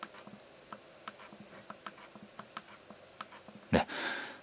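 Nikon Z 50 mirrorless camera in silent shutter mode: a steady run of faint, soft ticks at close range, then a louder breathy noise at the end.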